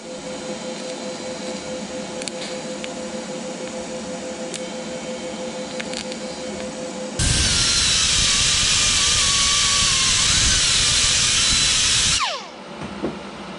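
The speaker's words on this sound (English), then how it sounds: "I just use my die grinder again to go ahead and smooth off the top of the weld with a little mini flat wheel" A die grinder fitted with a mini flap wheel smooths a weld on machinery skates, spinning up to a loud, harsh high-pitched whir for about five seconds of grinding before winding down, after a quieter stretch of workshop hum.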